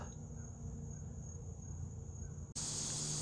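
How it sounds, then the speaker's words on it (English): Cicadas drone in a steady, high, continuous buzz outdoors, then the noise abruptly jumps louder and harsher near the end. "you may be able to hear the cicadas going crazy in the background"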